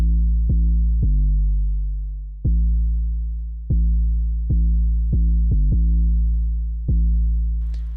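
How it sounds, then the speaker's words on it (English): Deep 808 sub bass in a mellow Logic Pro X beat, eight booming notes with sharp attacks that decay slowly, played alone in an uneven rhythm, with a faint noisy burst at the end. "The 808 sounds like this."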